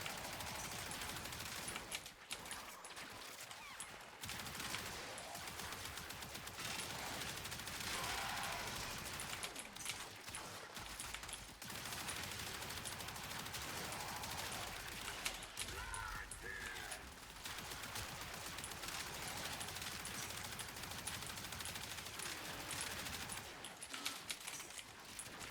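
Rapid, sustained bursts of Athodai primary fire in Warframe, a dense stream of gunshots with short gaps, loud and constant amid busy game effects.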